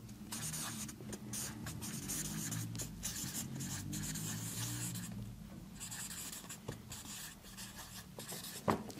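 Pen scratching and rubbing steadily across a board during a talk, a continuous close scraping texture with short pauses and a sharp tap near the end.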